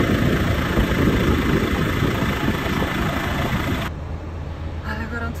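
A truck engine idles with a steady rumble close by, then drops to a quieter hum partway through.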